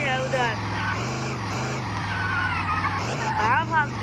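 A car drives in the video game Chicken Gun, its engine tone a steady hum that shifts pitch up and down as it moves, with a voice talking over it.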